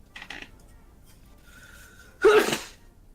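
A single sharp, loud sneeze bursts out close by after a stretch of near quiet with only faint background noises.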